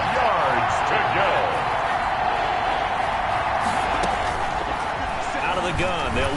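Steady roar of a stadium crowd in a video game football broadcast, building ahead of a big third down, a constant wall of cheering and noise with commentators talking over it.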